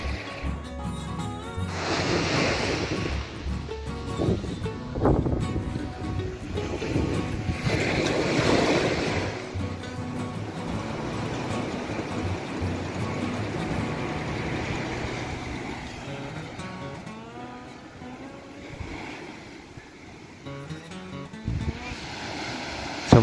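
Sea waves wash and surge at Teetop Beach, a broad continuous roar with rising and falling swells, wind buffeting the microphone and occasional faint voices in the background.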